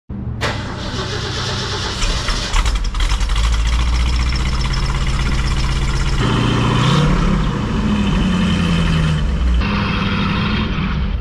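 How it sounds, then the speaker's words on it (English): A 1967 Shelby GT500 V8, fully restored, fires up from cold with a sharp crank and catch, then settles into a loud, steady, rumbling idle close by that continues throughout. "That's a cold start."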